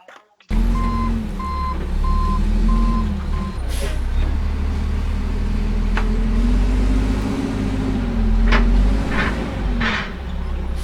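Truck reversing beeps repeating in a steady pulse at the start, then a heavy vehicle engine rumbling and droning with a few clanks and knocks, loud and close.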